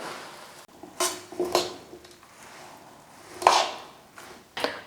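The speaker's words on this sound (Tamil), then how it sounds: "இப்போ எடுத்து வச்சுருக்கிற பொரியை கொட்டிடுறேன்." Puffed rice is tipped into hot jaggery syrup in a pan and stirred, giving scattered light scraping and clinking of a spoon against metal, soft and intermittent, with no talk.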